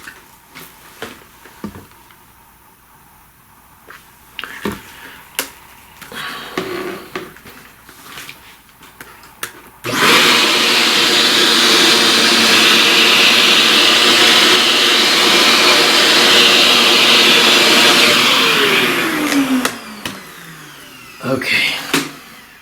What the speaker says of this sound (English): let's vacuum that mess we just made.